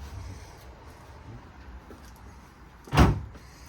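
A door is swung open during a house cleanout, giving one loud, sharp thud or clatter about three seconds in against a low murmur of room noise.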